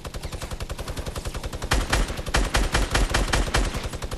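Rapid automatic gunfire in Fortnite hammers in a fast, even rhythm, joined midway by louder, heavier overlapping bursts, close and continuous with no talk.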